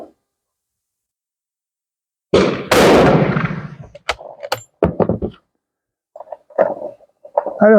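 Sharp, loud rifle shot from an 8x56R Kropatcheck while fire forming .348 Winchester brass, a single booming blast with ringing decay, followed by several metallic clacks and thumps of the action being worked, with brief muffled noises afterward.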